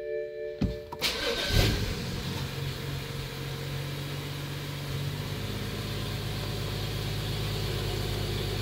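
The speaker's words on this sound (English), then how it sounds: "And I'm going to power the car on." A BMW 335i with the N55 engine, flashed with an ethanol tune, cranks briefly and catches, then settles into a steady, fairly quiet idle heard close by with no talking.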